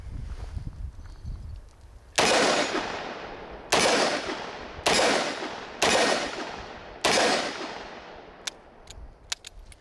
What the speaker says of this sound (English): It's pretty good shooting from 15 yards away, man.